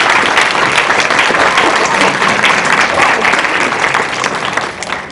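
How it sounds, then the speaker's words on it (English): Audience at a 2018 candidates forum in Ossining applauds both candidates, a dense, steady wash of clapping that fills the room and fades slightly at the end. "now is the time to applaud both of our candidates"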